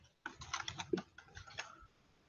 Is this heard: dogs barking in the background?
no